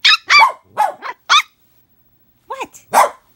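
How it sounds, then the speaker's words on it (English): A puppy barks and yips in a quick burst of five sharp, high barks, then a short pause and a few more, close and loud, with no talking over it. "Why are you barking?"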